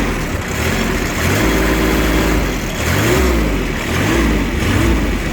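A Shibaura SP1540 tractor engine runs close and loud, its throttle opened repeatedly so the pitch climbs and drops in several quick rev swells over a rough, steady idle.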